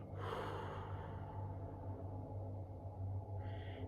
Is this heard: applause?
no